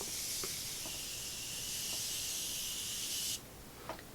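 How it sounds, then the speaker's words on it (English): Morphe Continuous Setting Mist sprayed as a single long, steady hiss lasting over three seconds, then cutting off sharply, leaving faint room tone. "to finish everything off, I'm gonna use the Morphe Continuous Setting Mist"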